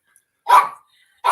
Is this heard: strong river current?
no